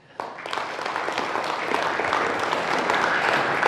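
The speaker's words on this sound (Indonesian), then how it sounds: "Sebelumnya, aplaus dulu untuk Novita Dewi" Studio audience applause on a TV talk show: a burst of clapping that starts abruptly and swells into steady, dense applause from the crowd, holding loud to the end.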